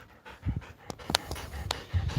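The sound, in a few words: dogs fighting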